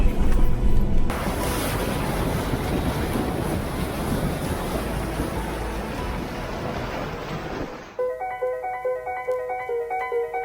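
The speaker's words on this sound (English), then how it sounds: "And final river crossing into Mace Town Historic Reserve." A 4WD vehicle fords a river on the Macetown track into the historic reserve on New Zealand's South Island, with loud, continuous rushing and splashing water for several seconds before it cuts off to a quieter, tonal passage.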